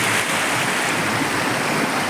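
Clear river water in a village flows steadily with a continuous broadband rush and gurgle, close and constant throughout with no talking.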